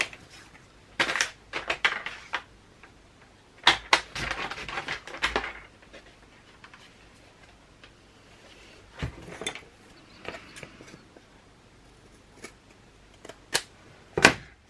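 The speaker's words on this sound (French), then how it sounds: "je veux couper la cartonnette de ici." Cardboard for an album spine is cut by hand in irregular bursts of crunching, scraping snips with pauses between, close and fairly loud in a quiet room.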